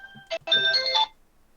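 A phone ringtone sounds close and clear: a short tonal blip, then a longer bright melodic ring that stops after about half a second.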